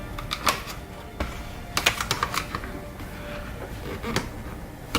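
A flathead screwdriver pries plastic tabs off a car dashboard vent, giving sharp, scattered plastic clicks and snaps at close range over faint background noise.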